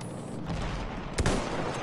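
Gunfire from the video game Battlefield 1: a steady, dense crackle of shots with a sharper close burst near the end, continuous and fairly loud with no talk.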